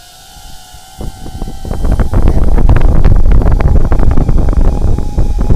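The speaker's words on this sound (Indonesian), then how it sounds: "kondisi sangat berangin ya" Strong wind buffets the microphone of a DJI Avata 2 drone flying at Eco Park Little Kyoto, starting as a light rumble, then building after a second into a loud, continuous roaring batter with dense crackling gusts.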